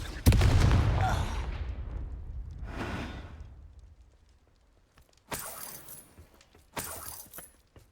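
Spell blasts from the video game Hogwarts Legacy, the Incendio and Confringo casts: a loud, sharp burst at the start that trails off, then two more short crackling bursts later, close and clear.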